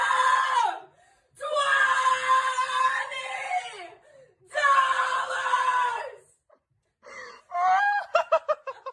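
Woman screaming in a song, repeated long raw shrieked notes in bursts separated by short gaps, ending with rapid choppy vocal stabs.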